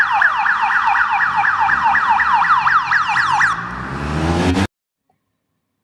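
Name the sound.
police motorcycle siren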